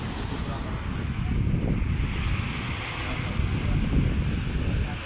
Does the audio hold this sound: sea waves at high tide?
yes